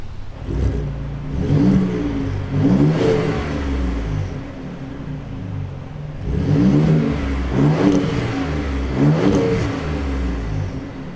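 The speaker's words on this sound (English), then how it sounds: "do some revs on this exhaust" A Ford F-150 Raptor pickup truck's exhaust barks through several throttle blips, each deep rev rising and falling in loud repeated bursts, close to the microphone.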